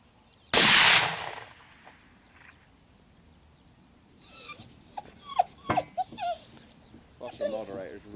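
A dog whimpers and whines in short, faint bursts outdoors while a .243 rifle is being zeroed, following one sharp, loud gunshot near the start, with people talking nearby.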